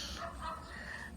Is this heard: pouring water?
no